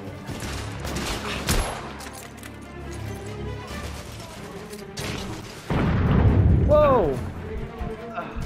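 Bombs going off in The Order 1886, a sharp blast early on and then a heavy, rumbling explosion that swells loudly near the end amid scattered gunfire.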